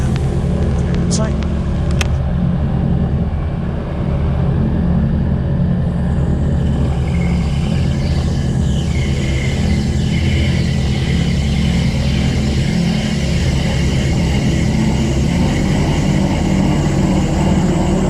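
Gyrocopter engine holds a loud, steady low drone at about 2,000 RPM for the brake check, a constant rumble throughout with talk over the top.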